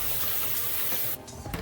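Running water pours steadily under a kitchen tap over food being rinsed, a broad close hiss that stops abruptly near the end and is followed by a few small knocks.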